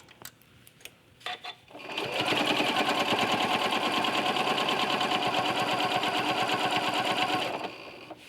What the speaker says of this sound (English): I'm going to take it slow and machine bind it from the back of my quilt.